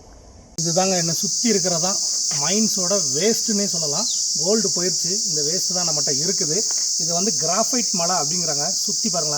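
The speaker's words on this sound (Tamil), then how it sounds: "வண்டு சத்தம் கேட்குதா?" Steady high insect chirping outdoors among graphite hills of mine waste near old gold mines at KGF, continuous and loud throughout while someone talks over it nearly the whole time.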